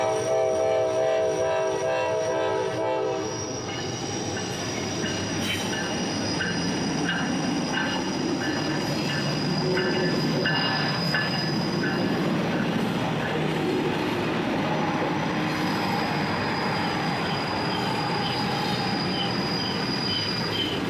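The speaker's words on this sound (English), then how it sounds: "When 2 trains pass each other on the railroad, it's called a meet" A train horn sounds, then rolling railcars rumble past steadily at Horseshoe Curve as two trains pass each other, with squealing wheels and rhythmic clatter, continuous and close for about twenty seconds.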